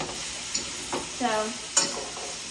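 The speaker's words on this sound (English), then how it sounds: "the onions are starting to get brown" Onions frying and browning in a pan make a soft continuous sizzle, broken by a few light stirring scrapes and clinks up close.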